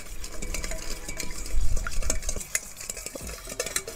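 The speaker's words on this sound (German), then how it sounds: "Und einen Löffel und verrühren uns das einmal." Spoon stirring a seasoning mix of paprika, pepper and salt in a bowl, with close, irregular scraping and clinking strokes of moderate loudness, no talking.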